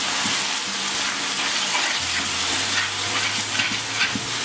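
Cold milk is poured into hot caramelised sugar syrup for wheat payasam, giving a continuous frothy, bubbling hiss with a low pouring gurgle, steady and close throughout.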